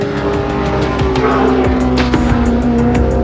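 Racing cars in an AMSCAR series final at Amaroo Park in 1987 roar past on the circuit, loud engines howling close by with tire squeal and skidding.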